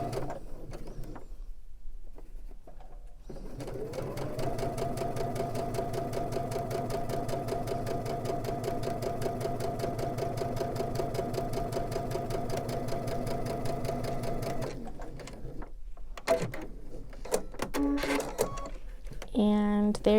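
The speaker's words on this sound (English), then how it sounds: "you can see how it's stitching just a little bit to the left of the existing stitching" A sewing machine fitted with a piping foot stitches piping in a steady, even mechanical whir for about ten seconds. It runs between quieter stretches where a person talks.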